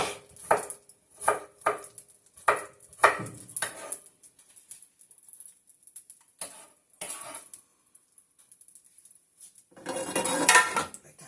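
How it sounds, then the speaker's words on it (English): Cabbage is chopped on a board with a knife in a home kitchen, giving a series of crisp, evenly spaced chops, then a pause and a few scattered taps, followed by a brief dense burst of rapid chopping. "And then I'm going to chop the cabbage."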